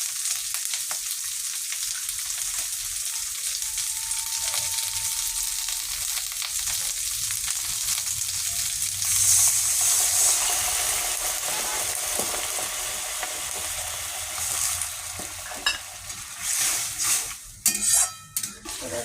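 Chilli paneer gravy ingredients fry in a pan with a continuous close sizzle. Occasional stirring scrapes and a few utensil clinks and knocks come toward the end.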